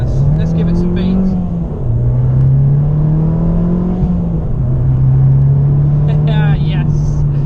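An Abarth 595 Trofeo accelerating hard from inside the cabin: a loud, rising engine note climbs through gears with pitch drops at each shift, while someone talks briefly over it.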